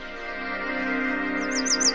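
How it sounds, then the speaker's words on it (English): A warbler sings a quick series of bright, rising-falling whistled notes over a steady low hum, fairly close and clear. "hearing the warbler's lovely song"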